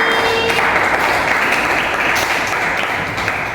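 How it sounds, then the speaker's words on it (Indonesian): Classroom applause for a student, a burst of many hands clapping close by that holds steady and then thins slightly toward the end, with no clear talk over it. "beri tepuk tangan dulu untuk Kiki"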